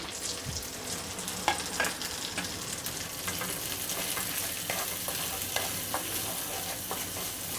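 Sweet corn and medium capsicum pieces fry on a medium flame for corn fried rice, producing a dense, continuous crackling sizzle with scattered small pops and light stirring throughout.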